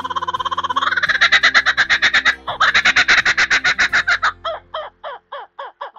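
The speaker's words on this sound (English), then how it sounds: "It's called a kookaburra from Australia." An Australian kookaburra at a ranch gives a loud, close laughing call. It is a fast run of rhythmic hooting bursts that builds, breaks off briefly, then slows into spaced chuckles near the end.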